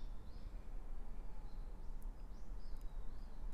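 Small birds chirp faintly from a balcony beside a bamboo thicket: scattered high calls, distant and soft, over a steady low background hum.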